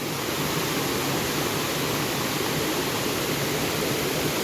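Gulari falls pours down in a steady, loud roar of rushing water, a continuous broadband wash with no voices heard over it.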